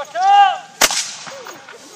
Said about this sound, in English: he will now fire the gun and hopefully it'll go bang